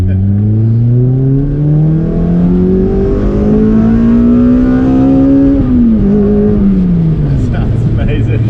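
Toyota MR2 with a 2ZZ engine swap revving hard and accelerating, a loud close engine note rising steadily in pitch, dipping briefly as it shifts, then settling, with voices talking over it inside the car.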